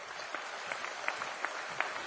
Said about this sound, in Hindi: एक बार मैं चाहता हूं कि एक ताली अपने कर्मचारियों के लिए हो जाए